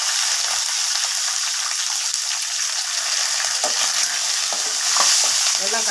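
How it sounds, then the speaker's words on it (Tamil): Curry leaves and onions sizzle loudly in a pan, a bright continuous hiss with occasional stirring scrapes and spatters, close up and without voices. "கருவேப்பில கொஞ்சம் சேர்த்துக்கலாம். வெங்காயம் வந்து கொஞ்சம் சேர்த்துக்கலாம்."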